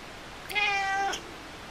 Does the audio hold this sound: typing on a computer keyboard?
no